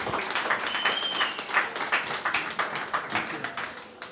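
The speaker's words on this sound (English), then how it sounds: "So please give him a big round of applause" An audience at a Jamaica High Commission town hall meeting in Birmingham gives a round of applause, a moderate, slightly uneven patter of clapping from a room-sized crowd, with some voices mixed in.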